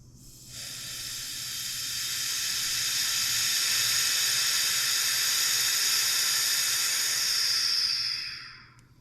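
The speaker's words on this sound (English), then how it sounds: "We'll open up the valve and let the air in." Air rushes through an opened valve into a vacuum chamber holding wood for resin stabilizing, a loud, steady, close hiss that starts abruptly, holds for about seven seconds, then cuts off.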